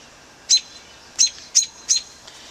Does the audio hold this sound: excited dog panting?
no